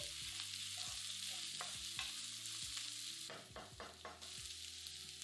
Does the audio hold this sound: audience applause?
no